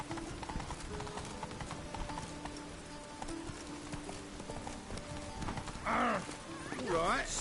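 Rhythmic clip-clop of hooves from Roach, a galloping horse in The Witcher 3, steady and moderately near, with rain-like patter, a neigh toward the end and a voice speaking.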